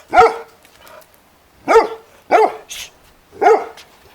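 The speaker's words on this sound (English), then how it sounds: "I can't make a video with you barking" A dog barks four times in separate bursts, loud and close, with short pauses between and no one talking.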